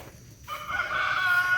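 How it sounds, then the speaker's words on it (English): A big rooster crows nearby on a rural property with chickens and goats after rain. A single clear, drawn-out crow rises and holds, loud and close, over faint outdoor background. "That's a big rooster."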